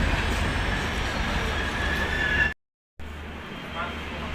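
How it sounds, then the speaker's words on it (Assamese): The Rajdhani Express pulls into Kamakhya Junction with a steady rumble and a brief high wheel squeal, broken by a short dropout before the rolling noise resumes. "এই যিখন ট্ৰেইন আহি আছে, হ'ল ৰাজধানী বাৰু, ৰাজধানী ট্ৰেইন হয় বাৰু।"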